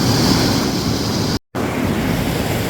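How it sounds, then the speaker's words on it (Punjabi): Loud, continuous rush of water roars throughout in a dense forest, broken only by a brief moment of silence near the middle. "ਪਾਣੀ ਦਾ ਸ਼ੋਰ ਸੋਹਣਾ ਲੱਗਦਾ ਆ"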